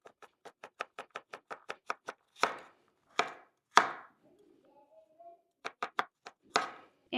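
A knife chopping carrots on a cutting board, a quick even run of about a dozen crisp taps, then a few heavier cuts and scrapes, close and clear with near silence between.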